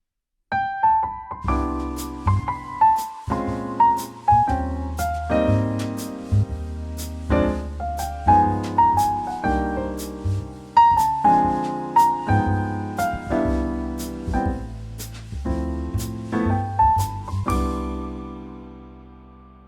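Solo piano with a low chordal accompaniment under a higher melodic line, played at a steady, relaxed jazz pace without any talking.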